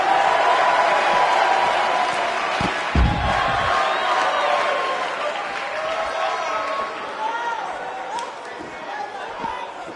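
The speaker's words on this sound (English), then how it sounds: "We have a sold-out, record-setting crowd here for BCW tonight." An arena crowd in the WWE 2K19 wrestling game roars steadily and loudly throughout, with a dull thud partway through and murmuring voices mixed into the noise.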